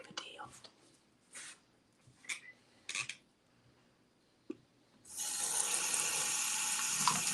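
Tap water pouring into a sink to rinse off an overflow, a steady close rush that starts abruptly after several seconds of soft whispered talk and small handling clicks.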